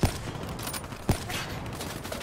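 CUDA gun shots in Call of Duty Black Ops III, two sharp loud blasts about a second apart over steady background game noise, no talking.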